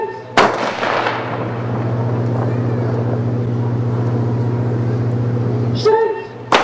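A simulated 4-inch naval gun fires aboard the cruiser HMS Belfast: a sharp blast rings over a steady low mechanical hum, followed near the end by another cluster of loud bangs.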